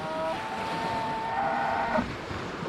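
Drawn-out, low mooing bellow from sea cows on a Baja beach, a single harmonic call lasting about two seconds, set against a steady wash of surf and wind.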